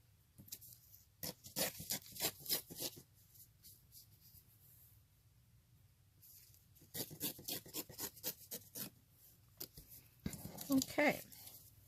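Paper for a junk journal is trimmed down to size, giving quiet scratchy bursts of cutting in separate clusters with near silence between them.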